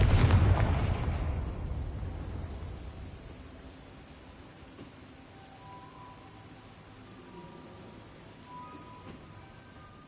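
A Confringo blasting spell detonates in a Harry Potter video game: one loud, broad explosive burst at the start that rolls off into a long fading rumble, followed by quieter game ambience.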